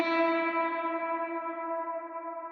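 A shimmer reverb effect with pitch shifting blends in octave-shifted layers, leaving a sustained, harmonically rich wash of tone that rings steadily and fades slowly over a few seconds with no voices present.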